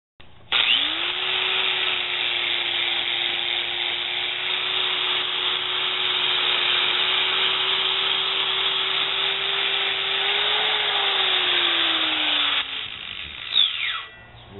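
A flap wheel on a power grinder scrubs rust off a Schwinn Mini Chopper bicycle frame, a loud continuous whine with abrasive rasp held steady for about twelve seconds before spinning down.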